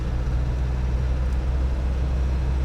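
A 1995 Land Rover Defender 300tdi cruises in fourth gear, a steady low diesel drone with road rumble heard from inside the cab, constant and unbroken, with no one speaking.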